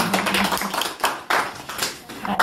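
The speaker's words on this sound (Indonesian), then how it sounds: "Tepuk tangan." A group claps briefly in a few uneven bursts, fairly close and a little sparse, as at a gathering of Indonesian Camino pilgrims.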